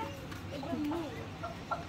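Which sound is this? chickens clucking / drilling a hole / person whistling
chickens clucking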